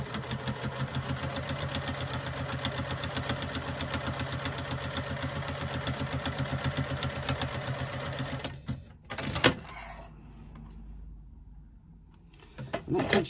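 Sewing machine stitching the top edge of a slip pocket on a fabric bag, a steady close mechanical whir for about eight seconds, then stopping with brief handling clatter.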